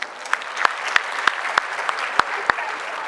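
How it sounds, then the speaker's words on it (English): Applause at a school graduation ceremony: a thin smattering of individual claps, a handful of sharp distinct hand claps standing out over a soft bed of lighter clapping, fairly steady throughout. "I would request a round of applause for them, please"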